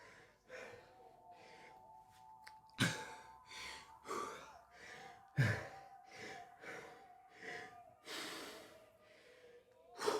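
A person breathing hard while holding a plank during a solo training drill: a series of loud, close sighing exhales and gasping breaths in an uneven rhythm, with pauses in between.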